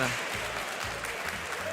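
A crowd applauding at a Yu-Gi-Oh tournament feature match in Utrecht, a steady wash of clapping and cheering filling a large hall, with voices mixed in.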